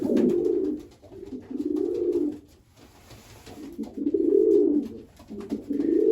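Racing pigeons coo in a loft with young birds, a steady run of low, throaty, rolling calls that swell and fade in repeated phrases, close and fairly loud, with no talk.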